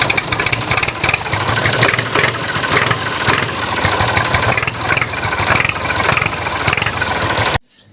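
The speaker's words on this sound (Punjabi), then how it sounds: "ਲੋ ਜੀ ਫਾਈਨਲੀ ਟਰੈਕਟਰ ਸਟਾਰਟ ਕੀਤਾ" An old tractor, long parked and push-started, idles loudly and close by with a steady, rough, throbbing engine note that runs unchanged before cutting off abruptly at the end.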